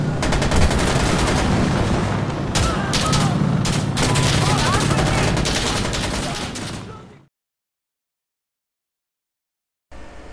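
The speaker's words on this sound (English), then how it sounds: "It also looks and feels badass as hell when you clear out a room with nothing but hipfire." Close, loud hipfire bursts ring out as a room is cleared in Insurgency Sandstorm, dense overlapping gunshots with sharp single cracks for about seven seconds, then sudden silence before a short sound returns.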